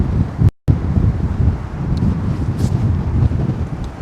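Strong gusts buffet the microphone outdoors in Brooklyn, a loud continuous low roar that drops out for a moment near the start, then rumbles on unbroken.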